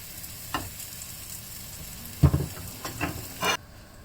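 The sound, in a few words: sausage and bacon tortilla wrap sizzling in pan, cheese melting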